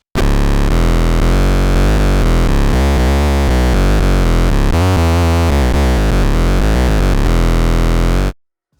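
Two layered mono synths with the filter cutoff opened a little and some drive added play a dense, gritty, buzzing bass sequence that shifts through rhythmic notes for about eight seconds, loud and alone, then stops abruptly.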